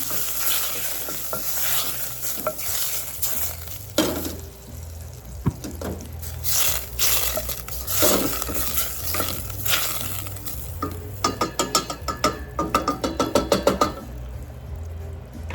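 Butter sizzles in a frying pan as it is spread to grease it, a steady close frying hiss with scraping strokes and a burst of quick rhythmic tapping near the end.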